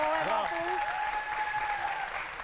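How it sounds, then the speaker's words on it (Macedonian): A studio audience at a music show applauds the band with a steady round of clapping, while a host's voice talks over the opening moment. "Еден голем аплауз за бендот."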